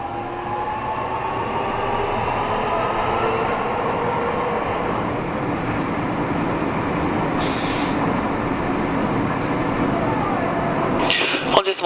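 A Nagoya City Subway Tsurumai Line train runs steadily with a constant low rumble and rolling hum, a brief brighter rattle near the end, continuous and close, recorded inside the car.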